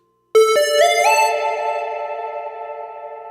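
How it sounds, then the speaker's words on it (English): A guitar pedal's spring reverb adds a wash to a synth-like VST tone: a sharp attack, a few stepped notes, then a long ringing decay that fades slowly, alone without talk. "you're already hearing reverb. Spring."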